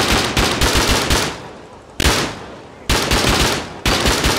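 Machine gun fire in the Rust video game: three loud, close bursts of rapid shots, each trailing off before the next begins, with no voices.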